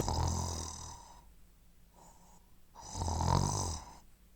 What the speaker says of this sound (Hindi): मुझे खर्राटों की आवाज़ आ रही है। पता नहीं कौन इतनी तेज खर्राटे मार कर सो रहा है।